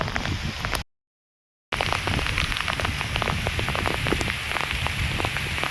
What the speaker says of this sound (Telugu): ఇలా వర్షం వస్తుంది చూడండి